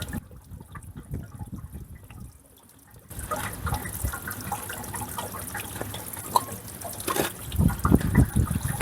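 Water drains out of a Suburban RV water heater tank after the anode is pulled, a soft trickle that swells into a fuller, louder gush and splashing partway through, continuing steadily to the end.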